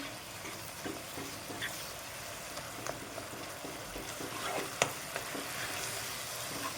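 Masala spices dry-roasting in a pan give a soft, steady crackle with scattered light ticks and scraping stirs, fairly quiet and without voices.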